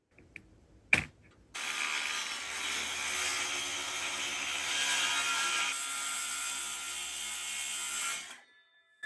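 A cordless saw cuts a long piece of wood on a cabin exterior, running as one loud, steady cut for about seven seconds at close range after a sharp click.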